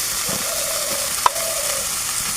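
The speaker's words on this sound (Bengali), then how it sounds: "শুকনো মরিচ পেঁয়াজ বাটা আদা রসুন সব কিছু এখন আমি দিয়ে দেবো তেলের দিয়ে। ভালো করে একটু কষিয়ে নেব।" Dried chili, onion, ginger and garlic paste fry in hot oil with a steady, close sizzle, and a single sharp tap of the spoon on the pan cuts through partway.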